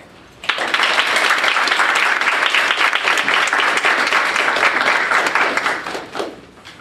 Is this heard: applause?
yes